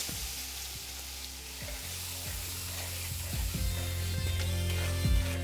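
Chopped onion frying in a pan with whole cardamom, cinnamon and cloves, a steady close sizzle with occasional stirring clanks and scrapes as it cooks over medium-high heat for an egg curry.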